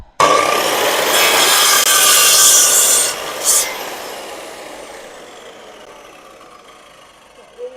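A loud, continuous abrasive rasp of wood being sanded, fading gradually into a softer scraping hiss with a couple of faint knocks.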